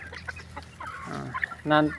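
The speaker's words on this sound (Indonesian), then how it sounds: "ini kan ayam kampung petelur" Free-range village laying hens cluck in short bursts, ending in one louder drawn-out squawk close by, with faint background sounds between calls.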